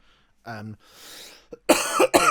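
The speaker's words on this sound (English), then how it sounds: "I really apologise for my cough." Several harsh coughs, close and loud, come in a short cluster with a breathy pause between the first and the last two.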